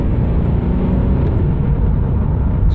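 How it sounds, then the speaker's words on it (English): A 1987 Buick Grand National pulls hard under acceleration, its engine a loud, steady low rumble that holds close and constant throughout with no talk over it. "so here we go. Acceleration."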